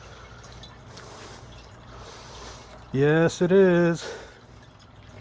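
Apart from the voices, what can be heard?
water flowing back down through a rebuilt fountain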